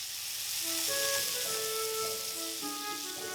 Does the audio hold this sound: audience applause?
no